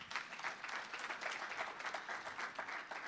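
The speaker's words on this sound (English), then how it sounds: "We can give them a round of applause for that" A crowd applauds a robotics team, the steady patter of many hands clapping together at moderate loudness for a few seconds, without any voices standing out.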